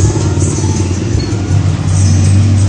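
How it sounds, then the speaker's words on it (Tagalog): A Kawasaki 250cc motorcycle engine runs close and loud with a steady, throbbing low drone. It rises slightly in intensity toward the end. "Kawasaki 250. 250cc Kawasaki."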